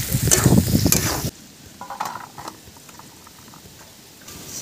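Green banana pieces go into a pan with prawns. There is a loud burst of sizzling and stirring for about a second, then the pan settles into a quiet, low frying crackle with a few faint clinks.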